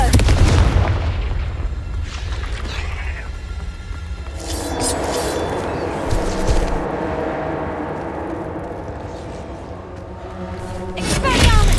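Explosive Confringo spell blasts in the Hogwarts Legacy video game, with repeated booming bursts and crackling, sustained rumble layered densely throughout, loud and close.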